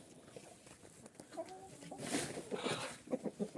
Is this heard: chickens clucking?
yes